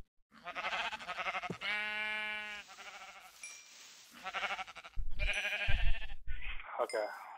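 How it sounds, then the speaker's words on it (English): Minecraft sheep bleat several times in a row, loud and close, with blocky game sounds and short bursts of other effects mixed in between the cries. "Fucking sheep. Everywhere."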